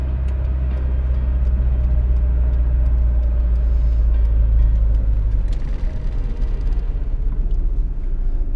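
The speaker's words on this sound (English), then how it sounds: "the road noise is pretty minimal" Steady low road rumble and engine drone inside a boxy Volvo 240 Classic cruising at highway speed at night, a continuous, fairly loud hum with no talk over it.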